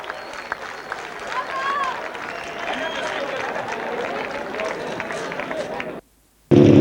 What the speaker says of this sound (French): vous pouvez l'applaudir très très très fort